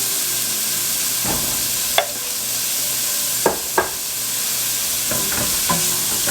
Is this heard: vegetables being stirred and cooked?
yes